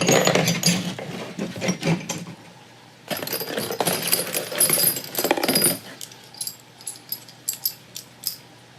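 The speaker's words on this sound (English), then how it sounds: "Lots of these chisels and punches." Metal chisels and punches, unboxed alongside stamp sets, clink and clatter as they are handled, giving a busy stretch of close metallic knocks and rattles that thins into a few sharp scattered clinks near the end.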